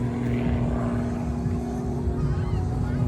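A US Air Force jet taking off at an air show gives a continuous, loud engine roar with a steady droning hum and tonal whine, rising slightly toward the end; no speech is heard.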